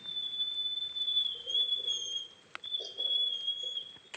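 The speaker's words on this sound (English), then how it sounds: "Yes, that is a call that's made by a wood mouse." Wood mouse in the woods, caught by a recording device: a thin, sustained high whistling call that wavers slightly, with a brief break and faint pattering underneath.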